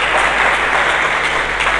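A church congregation applauds during a sermon, a brief, dense and even burst of clapping heard steadily throughout.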